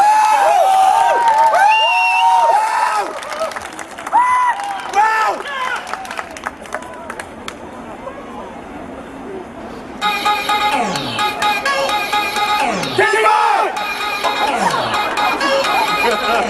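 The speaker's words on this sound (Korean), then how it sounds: "박수!" A concert audience at a girl-group show in Sindorim, Seoul, claps and cheers, building into a dense, loud burst of applause after amplified voices and crowd chatter.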